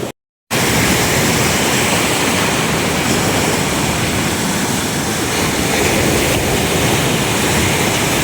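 Big sea waves crashing at a beach where people are swimming, a loud, constant roar of surf close by that covers everything, no talking.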